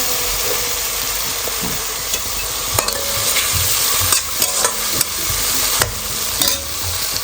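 Tomatoes fry with ground masala and onion in a pan, a loud, constant sizzle punctuated by repeated scraping clicks of a spoon stirring.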